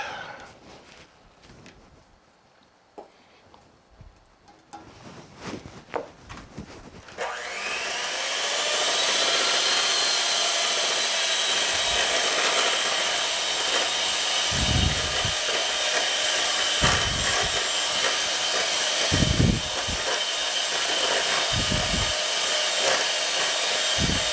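Raspberry cream cake batter being whipped with an electric mixer, a loud steady whirring drone that runs continuously after a few seconds of clattering handling noises.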